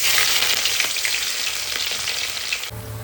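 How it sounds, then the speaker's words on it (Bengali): Ginger, garlic and chili frying in hot oil give a steady, close, loud broadband sizzle that stops abruptly near the end, leaving a quieter background hum. "আদা, রসুন, লঙ্কা এগুলো বেশ একটু ভালোভাবে ফ্রাই করে নেব"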